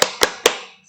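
A group of children claps the Indonesian 'tepuk semangat' spirit clap at a school orientation: three sharp, evenly spaced claps in quick succession, the last one ringing out briefly.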